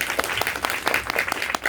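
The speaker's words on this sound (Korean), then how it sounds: "큰 박수로 부탁드립니다." Audience applause at a film screening and Q&A event welcoming the director and an actress, dense steady clapping with sharp individual claps throughout, close and lively.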